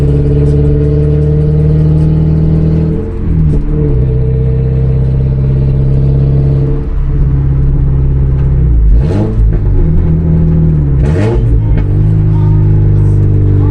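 A loud, raspy engine in a Toyota MR2 Spyder with a fully catless exhaust drones steadily with several sharp revs rising and falling, sounding close and unmuffled, with no talking.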